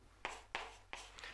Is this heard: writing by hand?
yes